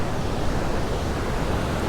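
Continuous broadband roar of surf where a river flows into the ocean on the Costa Rican coast, steady and loud throughout with no speech over it.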